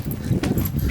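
Butler the dog whimpers and gives short yipping barks in an agitated burst, close by, over a steady low rumble of background noise.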